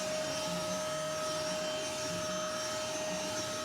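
A vacuum cleaner sucks up sand and dirt inside a 2005 Honda Element, a continuous loud droning whine with a steady pitched hum, close by and without any talking.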